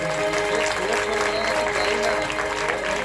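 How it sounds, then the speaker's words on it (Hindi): An audience applauds during a devotional Navratri bhajan program, a steady mass of hand claps held at even loudness throughout, with faint tonal sounds from music or voices lingering beneath the crowd. "मैंने भजन अच्छा लगा तो पहले ताली बजा दो जोरदार।"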